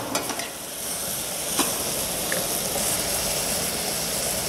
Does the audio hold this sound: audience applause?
no